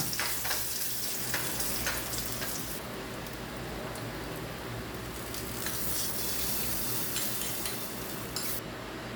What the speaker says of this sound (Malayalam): അപ്പോൾ ഇനി നമുക്ക് വെളിച്ചെണ്ണയിൽ ചെറിയ ഉള്ളി വഴറ്റിടാനാണുള്ളത്